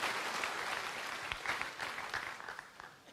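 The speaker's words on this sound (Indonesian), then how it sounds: "Yang percaya berikan tepuk tangan buat Allah kita." Church congregation clapping during a Sunday morning service, a steady wash of applause with scattered sharper claps, moderately loud and continuous.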